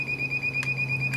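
An electrical circuit tracer receiver gives a steady, close high-pitched electronic tone with faint pulsing over a low background hum, brief and continuous.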